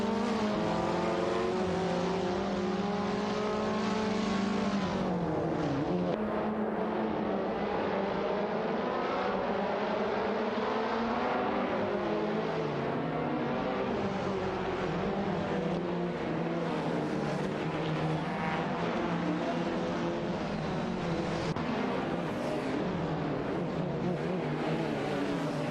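Race cars in an AI-driven racing video game roar continuously at close range, several engines overlapping with rising and falling pitch sweeps as cars accelerate and shift, loud and steady throughout with no talk.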